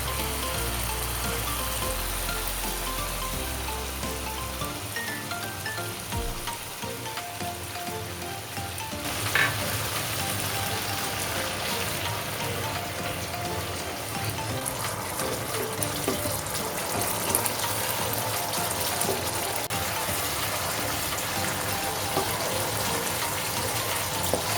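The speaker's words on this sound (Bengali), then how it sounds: "এবার আমি এখানে কিছুটা পরিমাণ কোকোনাট মিল্ক দিয়ে দিচ্ছি" Coconut milk pours into frying spices for a prawn malai curry, a continuous watery gushing and sizzling wash that runs steadily throughout, fairly loud and close, with no talk.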